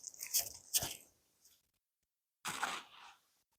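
Close bites into a crunchy buffalo fried chicken pizza with blue cheese dressing, two quick loud crunches followed by a pause and then a further chewing crunch, with no talk.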